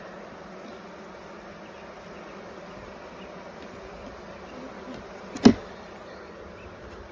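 Honeybees from a hive under inspection make a soft, steady buzz and hum throughout. Near the end a sharp, brief knock or tap of equipment sounds close by.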